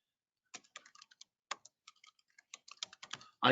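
Short bursts of typing on a computer keyboard, irregular quick key clicks, close and clear against silence, ending in a louder thump.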